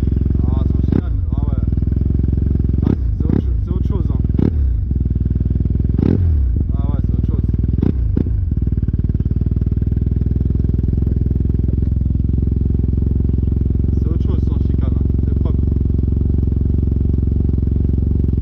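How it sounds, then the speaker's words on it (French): A Yamaha TMax 530 scooter (2014 or 2015 model) runs with its exhaust baffle removed, a loud, close, continuous engine drone with repeated sharp revving bursts, while voices talk over it. "on va vous faire écouter là, sans chicane"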